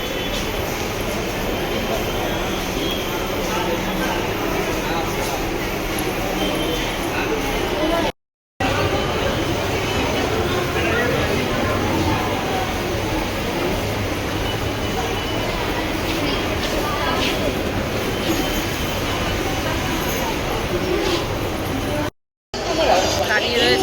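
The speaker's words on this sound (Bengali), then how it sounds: "দাঁড়িয়ে রয়েছি, মেট্রোর জন্য অপেক্ষা করছে।" Kolkata metro station platform with a steady roar of train and station machinery that fills the whole span, loud and continuous, with brief cutouts and voices mixed in throughout.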